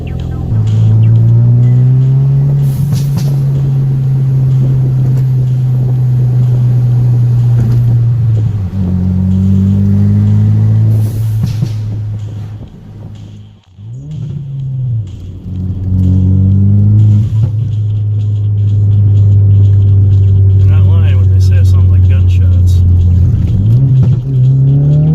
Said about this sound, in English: Sounds like a dang rally car now